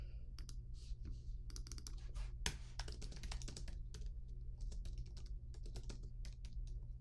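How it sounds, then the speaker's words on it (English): Keys on a computer keyboard clatter in quick, uneven bursts of close clicks and taps, typing out a comment, over a steady low hum with no talking. "Let me type it out this way."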